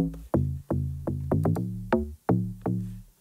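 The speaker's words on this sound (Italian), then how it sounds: "Il basso è grosso, ma è molto ritmico, ricorda un basso slap house." Punchy slap house style bass built from a layered sample with a plucky, transient-heavy attack, about eight rhythmic hits over three seconds, loud and upfront with no vocals.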